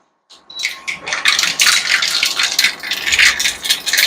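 Mustard seeds hit hot oil in a home kitchen pan and splutter with a dense, close, crackling popping that begins suddenly and keeps going steadily, with no one speaking.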